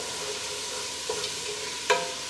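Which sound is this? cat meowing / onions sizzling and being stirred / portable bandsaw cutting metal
onions sizzling and being stirred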